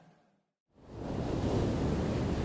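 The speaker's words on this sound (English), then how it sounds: "Well, Alex, my toes are in the sand, I hear the waves behind me" After a brief quiet gap, ocean waves at a beach swell into a broad, steady roar of surf that stays loud and constant, with wind-like noise mixed in.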